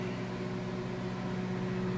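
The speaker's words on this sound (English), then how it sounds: "Utilizing the Faraday cage microwave." A microwave oven runs steadily while breakfast is being cooked, giving a continuous, even electrical hum with a faint tonal whine throughout, close by and with no voices.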